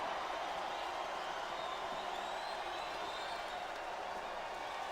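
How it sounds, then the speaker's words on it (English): A dense, continuous roar of a large arena crowd cheering at a wrestling match in the video game WWE SmackDown vs. Raw 2008, steady and loud throughout with no breaks. "This capacity crowd is making their opinions heard tonight."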